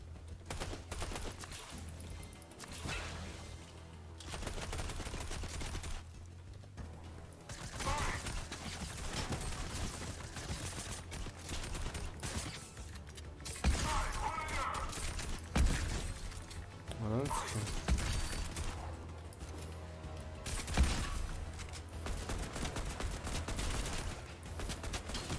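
Gunfire in the video game Fortnite sounds in dense, repeated bursts and volleys throughout, with a player talking over the shooting.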